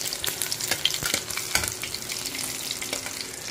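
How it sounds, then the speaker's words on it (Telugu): A tempering of mustard seeds, cumin, garlic, curry leaves and dried chillies fries in hot oil, crackling and spitting with sharp pops over a steady sizzle. "ఇదిగోండి ఆవాలు, జీలకర్ర, ఎల్లుల్లిపాయ వేసానండి. కొంచెం కరివేపాకు, ఎండుమిరపకాయలు వేసేస్తే తాలింపు అయిపోయిందండి."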